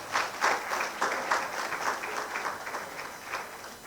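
A round of applause for the speakers at a national stakeholders' dialogue, a roomful of hands clapping in a steady sustained burst with slight swells, fairly close and without talk.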